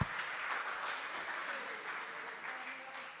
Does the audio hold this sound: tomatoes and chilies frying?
no